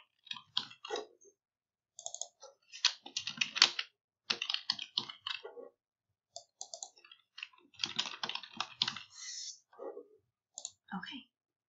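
Computer keyboard typing, crisp rapid clicks in bursts separated by short pauses, close and fairly quiet with no other sound around it.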